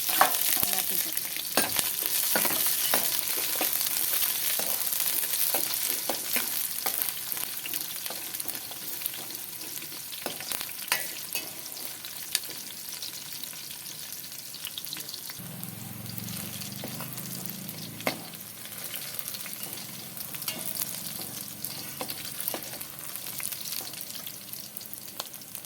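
Shallots, curry leaves and green chillies fry and sizzle steadily in a pan for a Tamil murrel fish curry, with clinks of stirring scattered throughout and a low rumble midway; no one speaks.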